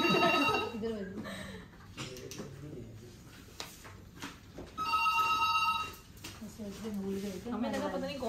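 A telephone rings in repeated bursts under ongoing conversation, the electronic trill standing out clearly over voices.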